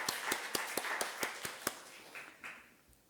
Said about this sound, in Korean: 축복하는 박수 한번 하겠습니다.